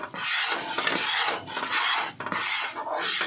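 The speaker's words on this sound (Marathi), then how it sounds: "आता थोडं थोडं तूप घालून हे ढवळत राहायचं आहे." Mysore Pak mixture scraped and stirred in a pan as ghee is added a little at a time, a steady close rasping, scraping rhythm in repeated strokes with brief pauses, with no voice.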